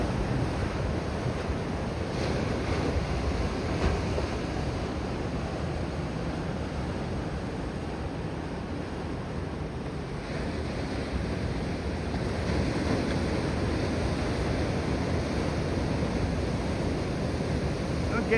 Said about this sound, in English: Getting many waves over there, are they?